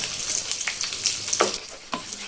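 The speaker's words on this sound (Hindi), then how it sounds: "आपने मीडियम फ्लेम पर ही अलट पलट करते हुए अच्छा सा गोल्डन फ्राई हो जाने तक इन्हें फ्राई कर लेना है" Chicken pakoras deep fry in oil over a medium flame, giving a steady close hiss and crackle with a few scraping strokes as they are turned.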